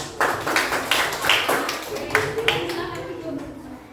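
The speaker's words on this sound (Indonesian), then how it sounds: "Tepuk tangan untuk kelompok 2" Group clapping in a classroom for student group 2, a short burst of scattered claps from a small group that fades out as voices carry on underneath.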